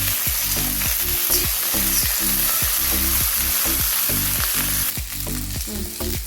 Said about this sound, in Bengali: এই ভেন্ডিটা ছেড়ে দিচ্ছি। ভাজা ভাজা হবে